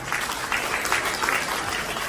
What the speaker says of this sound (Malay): Beri tepukan kepada UTM.